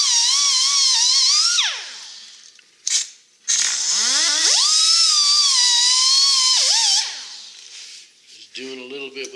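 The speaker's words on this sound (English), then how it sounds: "Doing a little bit with the die grinder here. It has a 3M pad on it" A die grinder fitted with a 3M pad roughs up a chrome wheel, with a loud, close, high-pitched whine that rises and falls as the tool speeds up and bites, cutting off briefly between passes.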